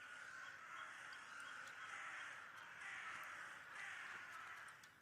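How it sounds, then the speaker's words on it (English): Crows cawing in the video game The Last Door, a series of harsh repeated caws arriving in slow waves, faint and somewhat distant over a hissy background. "Okay, I hear birds."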